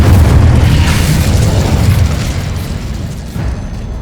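Incendio fire spell cast in Hogwarts Legacy, a loud rumbling burst of flame that holds for a few seconds, then fades slightly.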